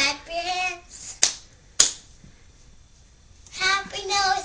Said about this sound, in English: Happy no clap your hands.